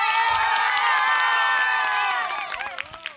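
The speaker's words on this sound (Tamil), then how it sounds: "மீண்டும் ஒரு முறை ஜோராக கைத்தட்டுவோம்" A crowd at a parish sound-and-light show about Jesus of Nazareth cheers loudly with whoops and high shouts over clapping, the roar held briefly before thinning into scattered calls.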